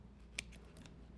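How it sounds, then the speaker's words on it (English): Scissors give a single quick, crisp snip through duct tape, close and clear against a quiet room, with a couple of softer handling ticks afterward. "Now I'm going to take my scissors and just get this little snip."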